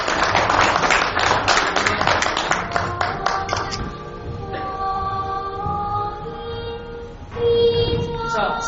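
An audience at a Korean political party founding ceremony claps warmly for a few seconds, then the applause thins out as ringing musical tones and a brief swell of sound take over.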